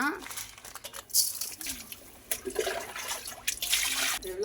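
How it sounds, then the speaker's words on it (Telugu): Fish being scrubbed by hand with salt and water for a Telugu fish curry, with wet rubbing and crinkling sloshes in irregular bursts, close up, under a voice speaking. "ఉప్పుతో బాగా వాష్ చేద్దాం అనమాట"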